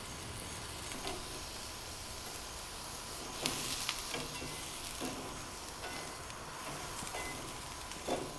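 Gar fish pieces frying in a pan make a quiet, continuous sizzle, with faint crackles and light scattered pops and ticks throughout and no talking.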